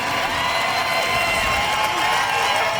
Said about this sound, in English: the crowd begins to cheer